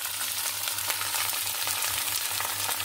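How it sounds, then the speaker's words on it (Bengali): Cut sweet pumpkin sautéing in a pan for a fish and pumpkin dish, a steady soft sizzle with faint scraping stirs, close and fairly quiet with no voices. "এখন দিয়ে দিব কেটে রাখা মিষ্টি কুমড়োগুলো। এটাকে সুন্দর করে একটু কষিয়ে নিব।"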